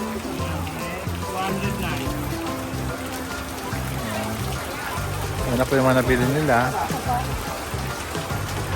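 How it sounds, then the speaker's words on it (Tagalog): Heavy rain pours down in a steady broadband hiss, mixed with a person talking and music playing nearby. "Ayan po, lakas ng ulan."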